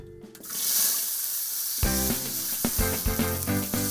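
Tempe benguk being stir-fried with carrots and potatoes in a wok: an immediate loud sizzle that settles into steady hissing, then a run of scraping and clattering utensil strokes against the pan, close and unaccompanied by talk.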